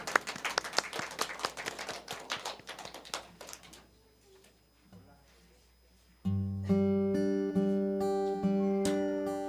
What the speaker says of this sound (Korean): 우리 하나님께 영광 돌리는 박수를 드리겠습니다